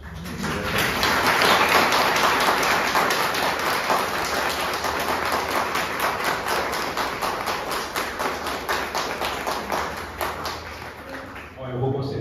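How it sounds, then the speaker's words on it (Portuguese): An audience at a book launch in Cantagalo claps steadily for the author, with dense sustained applause that holds for several seconds and then thins out near the end. "Doutor Henrique Bon, por favor, para os aplausos"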